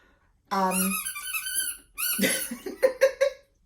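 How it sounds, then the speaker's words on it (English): A puppy's squeaky toy squeaking in repeated bursts, close and fairly loud, with a pause in the middle and quick short squeaks toward the end. "Sorry about the squeaking in the background. I don't think it's going to go away. Puppy is determined."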